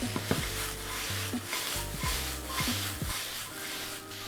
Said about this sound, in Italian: Quando il peperone inizia ad ammorbidirsi, metto la zucchina. Lascio cuocere un altro paio di minuti, sempre muovendo spesso.